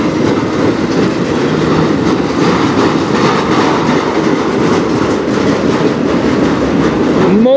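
A freight train rolls past close by on a Canadian rail subdivision, a loud, continuous rumble with rhythmic wheel clatter over the joints, and a faint squeal rising near the end.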